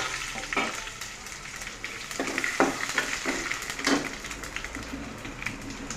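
Dried red chillies and cumin seeds sizzle in hot oil with already-fried garlic for an Andhra-style gongura crab dish, a continuous crackling fry with scattered sharp pops and spoon stirring, close and moderately quiet.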